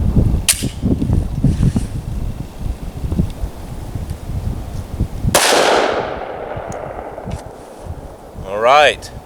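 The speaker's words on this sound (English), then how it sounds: "And everybody's favorite 10mm Glock 29." A single sharp, loud crack from a short-barrelled 10mm Glock 29 pistol cuts through outdoor rustling and handling noise midway, then rings out and decays, followed by a brief higher-pitched squeak near the end.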